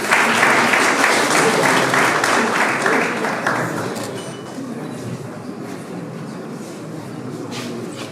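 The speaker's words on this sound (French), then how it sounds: "Applaudissez s'il vous plaît." Audience applause for journalists receiving media prizes at a 2025 awards ceremony, a dense, loud burst of many hands that tapers off gradually to a lower, steady clapping.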